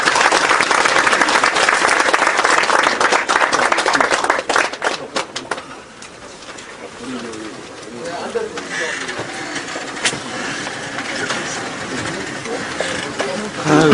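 A crowd at a political party's founding convention in Seoul bursts into loud, dense applause after a resolution is read. The clapping fades after about five seconds into quieter room noise with voices.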